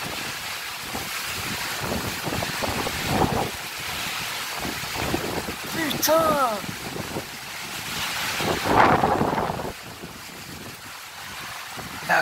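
A summer thunderstorm in Meyzieu lashes the area with strong wind gusts and rain, buffeting the microphone in loud, surging rushes while a man exclaims briefly.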